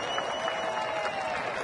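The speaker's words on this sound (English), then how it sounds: "Sarcastic cheer from the Tiger faithful today." A baseball crowd of Detroit Tigers fans at the ballpark gives a brief sarcastic cheer, a soft spread of clapping and murmuring across the stands, heard from a distance.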